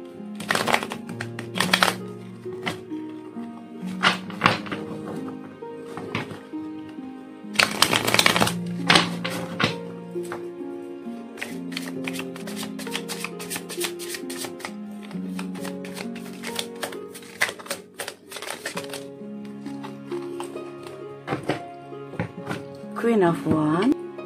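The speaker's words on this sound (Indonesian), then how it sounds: "Saya ambil beberapa kartu tambahan." Tarot cards are shuffled and slapped down in repeated bursts of crisp flicking and snapping, set against a continuous musical background, with a few pauses between draws.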